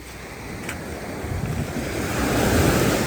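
Ocean surf washes steadily onto the shore with wind buffeting the microphone, the rushing swell growing louder toward the end.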